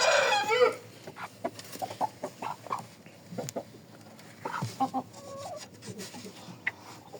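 A chicken clucks in a string of short, uneven clucks close by, after a brief, bright crowing burst at the start, in a quiet farmyard setting.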